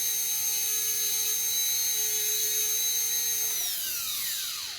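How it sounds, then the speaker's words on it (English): Fine pointed diamond burr grinding the occlusal anatomy of a dental crown, a steady high-pitched whine that holds for several seconds, then drops in pitch as the handpiece winds down at the end. "A little bit of fine pointed diamond burr."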